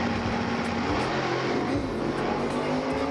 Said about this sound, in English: And Dean racing again.